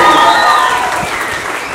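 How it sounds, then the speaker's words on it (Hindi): At a school annual day event, an audience applauds loudly with some crowd noise, a dense burst of clapping heard up close. "कृपया जोरदार तालियों से"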